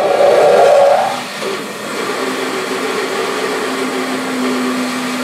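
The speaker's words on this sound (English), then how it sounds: "I'm going to cut this slot on the bandsaw instead of using the table saw" A bandsaw runs while cutting a slot in a wooden block, opening with a louder burst of cutting noise that eases into a steady motor hum with a faint tonal whine, close by, with no voices.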